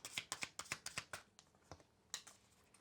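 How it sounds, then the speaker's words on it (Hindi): Tarot cards being shuffled and pulled, a quick run of crisp, close card taps and flicks, followed by a brief pause and a few more soft snaps. "Okay, one more card I need to pull."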